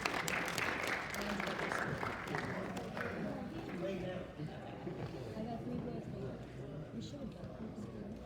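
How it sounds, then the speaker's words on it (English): Audience applause greets volunteers called up onto a stage at a character training presentation, a steady broadband patter of clapping that holds for several seconds and thins slightly toward the end, with some crowd noise mixed in. "How about a round of applause?"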